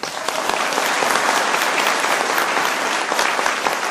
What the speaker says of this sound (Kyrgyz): Өзүңөр үчүн бир кол чаап койсоңор